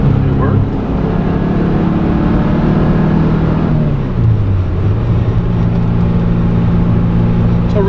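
A 1974 Porsche 914 Can-Am Bumblebee cruises at highway speed, its engine droning steadily with a pitch dip partway through as it shifts, wind and road roar filling the cabin continuously and loudly.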